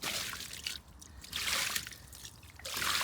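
Water poured from a container over a freshly caught golden fish on a winter lake bank, coming in splashing bursts with short pauses between them, fairly close and loud.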